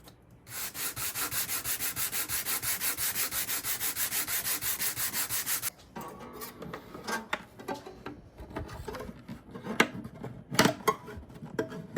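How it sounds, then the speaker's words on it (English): Quick, steady back-and-forth sanding strokes on the bridge of a 1961 Stella (Harmony) H927 guitar rasp for several seconds, then give way to quieter scraping and handling noises. "So, pop this guy out and keep sanding."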